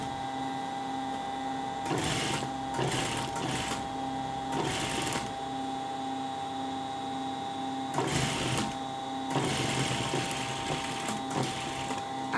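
A sewing machine stitches around a round neckline. Its motor whirs close and loud in several bursts of rapid stitching, with short breaks in between.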